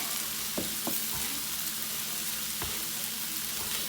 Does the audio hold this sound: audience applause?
no